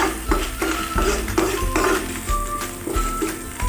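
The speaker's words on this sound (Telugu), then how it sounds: "ఒక 2 నుంచి 3 నిమిషాల వరకు దీన్ని మనం బాగా ఫ్రై చేసుకుందాము" Ginger paste fries in a pan for batani chaat, with a steady sizzle under repeated scraping and stirring of a spoon against the pan, plus occasional metallic clinks, close and fairly loud with no talking.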